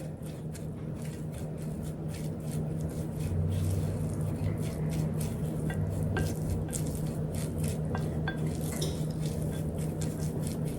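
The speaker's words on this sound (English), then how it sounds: "Give that a good stir." Seasoned diced potatoes with onion are stirred in a bowl, a continuous soft scraping and squishing with occasional light clinks of utensil against the dish over a low steady hum.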